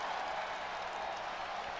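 A wrestling crowd at a Survivor Series show cheers and applauds steadily, a dense, continuous roar of clapping and voices from a large audience with no single voice standing out.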